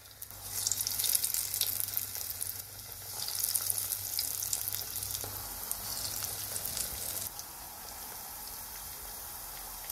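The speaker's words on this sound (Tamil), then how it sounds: "அமுத்தி இதை அப்படியே மெதுவாக எண்ணெயில் போட்டுருங்க." Murungai keerai paruppu vadai, drumstick-leaf and lentil fritters, sizzling and bubbling steadily in hot oil, a dense crackling frying hiss that runs throughout with small spits and pops, loud and close with no talking.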